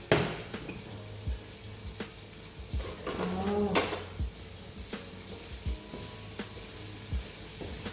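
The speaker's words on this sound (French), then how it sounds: "on les met sur le feu et on mélange" Sliced onions sizzle steadily in a pan while a utensil stirs them, with scattered sharp scrapes and clinks against the metal, close and moderately loud, without talk.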